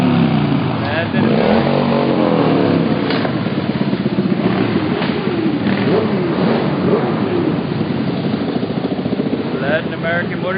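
Motorcycles of the Latin American Motorcycle Association rev and rumble continuously in an MLK Day march along Waikiki Beach, loud and steady throughout, with voices mixed into the engine noise.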